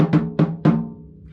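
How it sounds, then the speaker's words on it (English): A drum-set snare drum struck three times in quick succession, each hit sharp and resonant with a ringing, fading tail, close and alone. "And one of the most important drums is the snare drum,"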